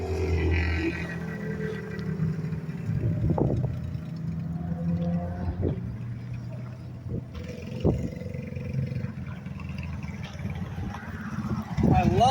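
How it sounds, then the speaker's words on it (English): A minibike's exhaust drones steadily while riding on a long road ride, a low engine rumble with occasional revs rising and falling, fairly close, with wind and some talk mixed in. "I love that exhaust."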